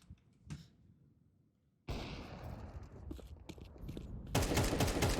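Rapid gunfire in Counter-Strike 2 from a crouching player, a quiet opening with a few isolated shots, then dense bursts of shooting that grow louder and continuous toward the end, no talk.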